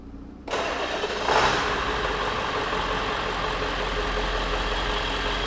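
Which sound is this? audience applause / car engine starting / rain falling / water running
car engine starting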